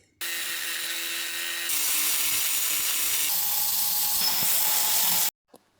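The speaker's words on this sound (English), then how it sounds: "So I will just cut these to lengths and then drill some holes" Power tools cut scrap metal brackets to length and drill holes in them, giving a loud, continuous high-pitched grinding whine. The tone shifts in steps over about five seconds, then stops abruptly, followed by a short clunk. No one speaks.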